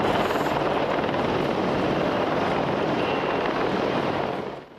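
Apache military helicopters roar steadily close by, a loud continuous rotor and engine drone that holds level before fading slightly at the end.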